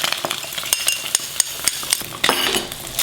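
Beaten eggs for ham and cheese scrambled eggs hit a hot pan and sizzle, with sharp scraping and tapping of a utensil stirring against the pan in an uneven rhythm, close and without talk.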